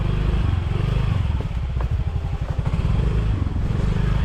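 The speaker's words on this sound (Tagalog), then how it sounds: "Grabe yung motor si Frozen." A motorcycle engine drones close by at a busy market, its low rumble steady throughout with some clatter around it.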